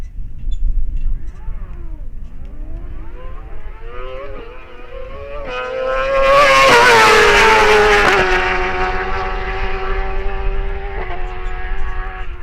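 Drag racing motorbikes at a strip scream through rising gear-laden engine notes, peaking loud mid-run with a harsh roar, then holding a steady high whine as the bikes accelerate away.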